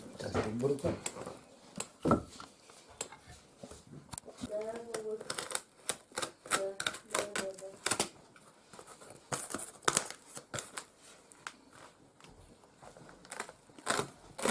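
A cardboard box holding wheelchair batteries is torn and cut open, with sharp tearing, ripping and crinkling bursts close by, and people talking throughout.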